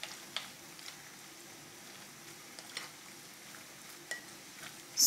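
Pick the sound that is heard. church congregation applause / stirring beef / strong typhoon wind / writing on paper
stirring beef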